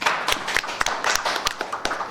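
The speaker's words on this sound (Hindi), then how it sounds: "इसके लिए ताली आप बजाएं प्लीज" An audience at a Hindi film press conference claps in a brisk, uneven patter of hand claps, moderately close and steady throughout.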